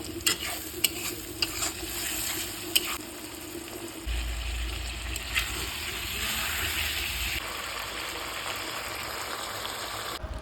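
Food frying and being stirred in a pan while cooking, a steady sizzle with repeated scraping stir strokes, close and fairly loud, with a low rumble joining partway through.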